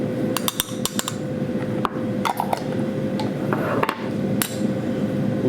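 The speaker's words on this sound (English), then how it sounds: "Mincing up the garlic." A knife minces garlic on a board in a kitchen, giving quick, uneven bursts of sharp chopping taps, close and fairly loud, over a steady low background hum.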